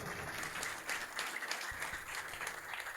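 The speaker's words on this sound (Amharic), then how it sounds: "አጨብጭቡ ለጌታ።" A church congregation applauds during a prayer service, a dense, steady crowd clapping that holds for about three seconds at moderate distance.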